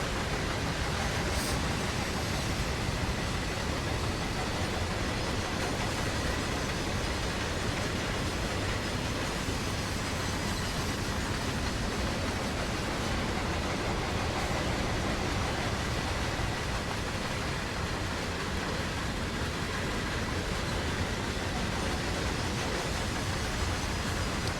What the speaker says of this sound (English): I do like the sound effects though. Sounds pretty realistic as the train goes by.